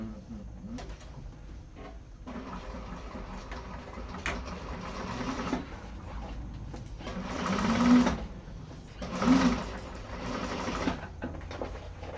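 Sewing machine stitching the lining of a satchel bag: a steady mechanical hum and rapid needle chatter that surges in several louder bursts, close by, with no clear speech.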